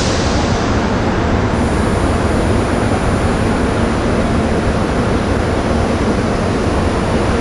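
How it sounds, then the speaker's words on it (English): A Chestnut Hill East commuter train pulling out of the Temple University station at rush hour, heard as a loud, constant broadband rumble and roar with no clear breaks and no voices. "Chestnut Hill East train's about to depart."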